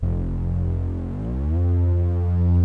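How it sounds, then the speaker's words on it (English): Synthesizer set to legato holds one low note, then a second note pressed while the first is held glides smoothly up to the new pitch, a steady buzzing tone throughout with no voices. "when you press another note down, it'll slide between those two notes."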